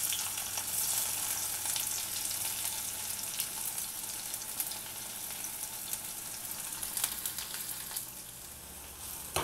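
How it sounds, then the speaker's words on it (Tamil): Chopped onions sautéing in hot oil with mustard seeds, a steady close sizzle with occasional sharper crackles and stirring clatter, continuing without any talk. "இப்போ இந்த வெங்காயத்தை வந்து ஒரு 2 நிமிஷம் வதக்கிடலாம்."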